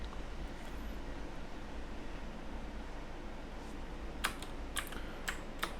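A computer keyboard is tapped for shortcuts while building a spreadsheet schedule: quiet background first, then a cluster of crisp, close key clicks and presses near the end, with no speech.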